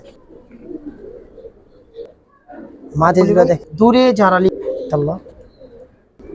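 Giribaz pigeons coo low and soft in a loft, a murmuring backdrop that continues while someone talks loudly over them through the middle.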